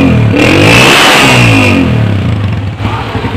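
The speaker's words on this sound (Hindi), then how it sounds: "इसी तरीके से साइलेंसर का भी साउंड हम चेक करेंगे।" A United 125 (CG 125 type, Euro 2) motorcycle engine and silencer run close up, idling then revving loudly in a steady rising and falling note before easing back down.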